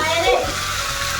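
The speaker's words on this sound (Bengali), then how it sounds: "তো চলো আমি এদিকে মাংসটা কষাই," Meat being sautéed in a pan while being cooked down for a curry, a steady broadband sizzle filling the whole short moment at close range, with no voices.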